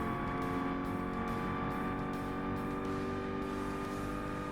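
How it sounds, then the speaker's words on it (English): A Challenger muscle car in the Forza Motorsport racing game drones steadily with a sustained high supercharger whine layered over the engine note, fairly quiet and even throughout. "It sounds like a supercharger"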